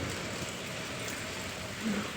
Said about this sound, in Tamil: ஒரு வாரமாகவே மழை பெஞ்சிட்ருக்குங்க.